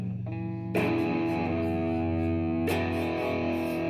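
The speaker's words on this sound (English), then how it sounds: "You get some pretty good distorted tones." Electric guitar through a Tube Screamer overdrive pedal with the gain turned up, ringing out heavily distorted sustained chords, two loud strums a couple of seconds apart, each left to ring with no talking.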